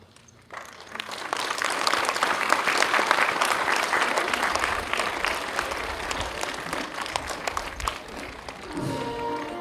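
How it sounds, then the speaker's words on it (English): Middle school students and audience applauding veterans at a Veterans Day ceremony, sustained dense clapping that swells quickly and carries on for several seconds before easing off as a voice begins. "Students, please applaud for the veterans"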